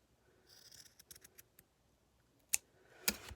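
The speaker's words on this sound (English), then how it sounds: "You want to straighten that out by just cutting it so you got a nice straight edge." Scissors snipping across the pointy toe of a sock to straighten the edge for a doll sweater: a run of small crisp clicks, then two sharper, louder snips, close up and quiet with no talking.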